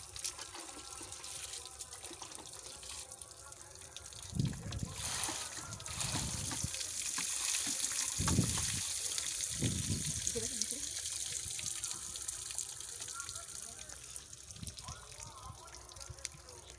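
Mangoes are washed under a running kitchen tap, a steady close stream of water with splashes and sloshes as the fruit is handled, a voice talking over it.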